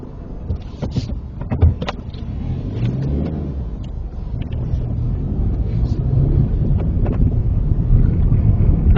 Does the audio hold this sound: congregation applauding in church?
no